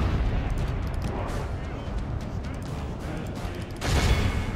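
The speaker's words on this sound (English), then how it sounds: "Make sure our artillery fires at targets that are far away." Artillery fire in the video game Medieval 2, set in the pike and shot era: a dense, rumbling barrage of booms with a louder burst near the end, under continuous talking.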